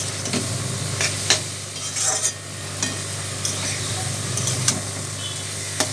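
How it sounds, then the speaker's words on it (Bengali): Malabar spinach (pui shak) fries in a pan with a continuous close sizzle, while a spatula stirs it and scrapes the pan in repeated sharp strokes. "এখন পুঁই শাকটাকে ভালো মতো ভাজা ভাজা করে নিতে হবে।"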